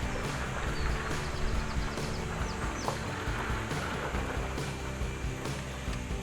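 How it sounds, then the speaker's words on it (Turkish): A waterfall and flowing water at Delmece plateau rush in a continuous, dense, loud roar that fills the scene without pause, with no voices. "Burası mıymış su düşen şelalesi?"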